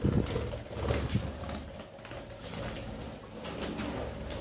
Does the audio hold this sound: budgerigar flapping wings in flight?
yes